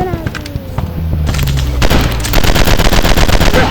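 Rapid automatic gunfire in the FPS video game Commando Strike, loud and close, with dense bursts of shots building in intensity over a layer of game effects.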